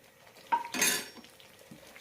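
A spoon scrapes and clinks against a pan in a few quick strokes while a carrot Mysore pak mixture is stirred with oil and ghee, fairly quiet, surrounded by near silence.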